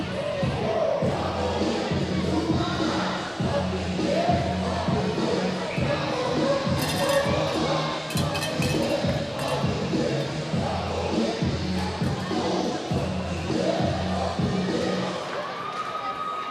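Dense roar of a hockey arena crowd at a minor-league game, constant loud chatter and shouting with music pumping underneath, sustained throughout.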